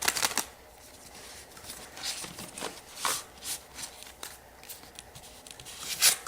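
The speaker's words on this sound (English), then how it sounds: "I'm going to shuffle these a little too" Tarot cards riffle and slap softly in repeated quick bursts, a close, quiet shuffling with irregular rhythm.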